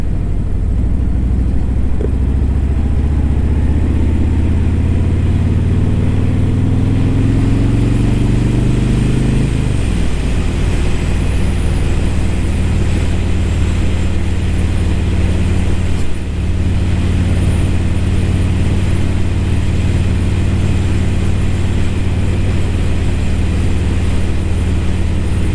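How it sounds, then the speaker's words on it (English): A 2017 Harley-Davidson Road King Special's Milwaukee-Eight 107 V-twin engine rumbles nearby, revving up and down through gears before settling into a steady, loud, throbbing idle. "this Milwaukee 8 engine, this 107, is a beast"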